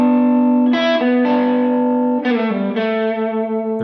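A sustained, distorted electric guitar solo over a song with heavy effects, bending between held notes with rich harmonics and reverb, loud and unaccompanied by voices.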